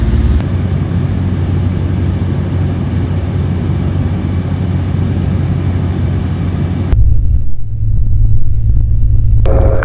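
A microlight aircraft descends toward an airfield to join the crosswind leg for runway 27 in Scotland, its engine a steady loud drone that continues throughout, with a brief change in tone partway through.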